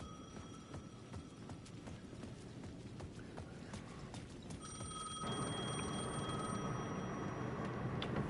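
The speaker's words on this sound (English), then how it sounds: "The payphone at the edge of the plaza was ringing again." A payphone bell rings in repeated bursts over a low ambient hum, becoming louder and more sustained in the final seconds, in the video game Alan Wake 2.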